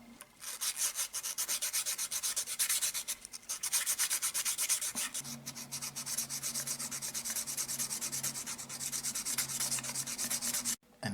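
Oiled 1000 grit sandpaper rubs steadily on the stainless steel trigger of a Smith and Wesson M&P pistol, a close, continuous rasping scrub. It carries on for about eleven seconds with only a few brief pauses and no talking.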